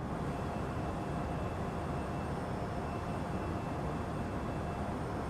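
Cabin view of an Embraer E175 regional jet in a flight simulator game, with a loud, steady engine roar and broadband hum filling the clip evenly, with no voices.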